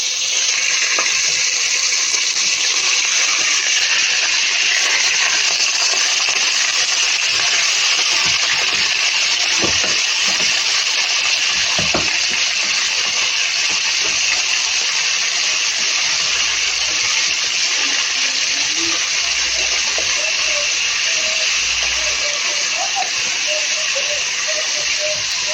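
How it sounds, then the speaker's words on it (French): Meat frying in already-hot oil in a pan for a sautéed cabbage dish, giving a loud, steady, unbroken sizzle and hiss that runs throughout with no talking. "On va laisser la viande griller"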